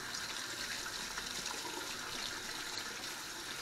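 Hot water runs from a household tap in a continuous, even gushing stream, fairly quiet and with no talking, while the water is left to warm up in a system that is slow to heat.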